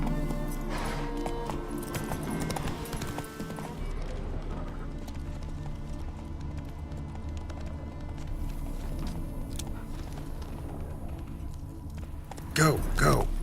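Hoofbeats of the horse Roach galloping in The Witcher 3: Wild Hunt, a rapid rhythmic clip-clop under game music and ambience, with a sharp burst of movement near the end; someone talks over part of it.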